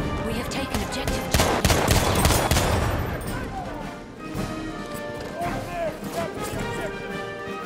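Battlefield 1 combat gunfire rattles in close volleys and scattered shots amid crashing impacts and battlefield clutter, with talking voices running over much of the noise.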